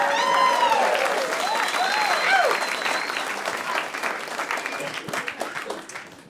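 A comedy club audience breaks into loud applause that gradually thins and fades, with a comedian talking over it during a stand-up set.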